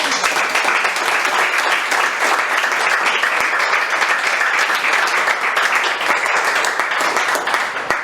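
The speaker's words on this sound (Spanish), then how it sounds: "Denle un aplauso al Señor." Sustained applause fills a church as the congregation claps together, a dense, steady wash of hand claps that stays loud and even throughout, with no speech over it.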